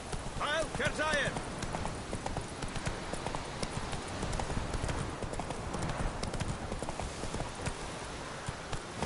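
Horse hooves clip-clop steadily through The Witcher video game, close and continuous under game voices, with a brief whinny-like cry near the start.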